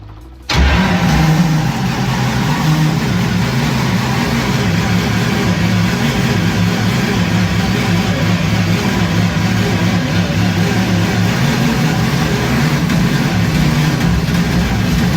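A car engine cranks over and over without catching, a sustained, loud, grinding churn that starts abruptly and drones steadily to the end, with no talk.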